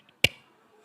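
A single sharp hand clap rings out in a quiet church setting, crisp and close, followed by a short decay into silence.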